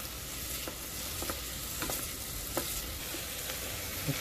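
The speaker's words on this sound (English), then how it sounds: "Looks like the onions are getting sauteed a little bit." Onions sautéing in a pan for a Nepali fish curry, a steady soft sizzle with occasional stirring scrapes and clicks throughout, close and moderately loud, no voices.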